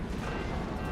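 Cannon fire in the naval-fort strategy game Forts, a single dense, heavy boom filling a brief moment with rumbling low-end noise.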